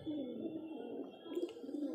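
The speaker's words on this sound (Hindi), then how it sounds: "घर पर हमारे खूब सारे कबूतर हैं" Pigeons kept at a home coo in low, rounded calls that repeat steadily, with a few brief higher chirps partway through. No one talks over the birds.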